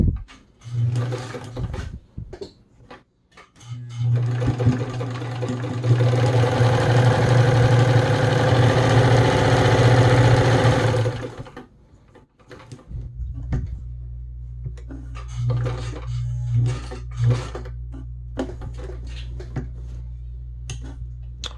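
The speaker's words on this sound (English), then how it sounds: "let's go ahead and get started on the stitch test with 2 layers of cotton" An Imperial Gritzner VZ domestic sewing machine stitches through two layers of cotton, its motor humming in two sustained runs separated by a brief pause, near and fairly loud with light clicks between.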